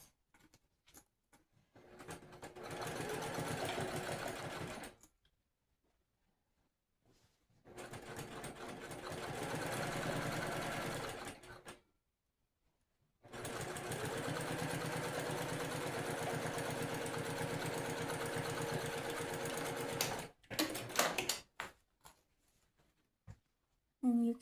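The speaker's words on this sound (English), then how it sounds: "I like to make the stitch length a little bit longer for my top stitch because it looks nice." Sewing machine top stitching fabric with a longer stitch length, three steady runs of close mechanical whirring, each lasting several seconds, separated by short silences, with brief handling clicks at the end.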